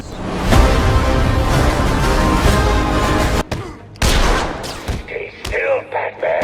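Gunfire in the video game Batman Arkham City: dense, rapid volleys of shots and booms crackle loudly for several seconds, then break off into sharper separate bursts and whooshes, with occasional voices from the game or players.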